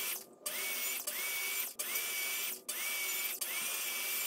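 A circular saw whirs steadily through repeated crosscuts in wood, with five short gaps where the whine dips and spins back up, heard fairly close.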